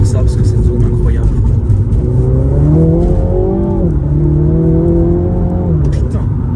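A small go-kart engine revs loud and close, its pitch rising and then dropping through manual gear changes, with someone talking over the steady drone.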